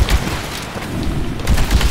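Rapid bursts of gunfire from a multiplayer match of the sci-fi shooter Titanfall, in its beta, sound loud and dense for the whole stretch with heavy low thumps.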